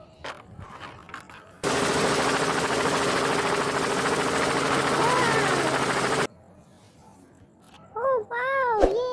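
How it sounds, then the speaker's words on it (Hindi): A toy helicopter sound effect from a red helicopter in a children's vehicle cartoon, a loud steady mechanical whirring burst of several seconds that cuts off abruptly, with excited voices before and after. "ये है हमारा रेड कलर का हेलीकॉप्टर।"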